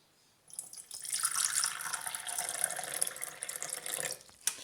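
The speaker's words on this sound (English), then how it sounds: "So now you're going to pour water," Distilled water poured steadily into a container, a continuous close splashing trickle that starts abruptly and runs for several seconds before tapering off with a final clink.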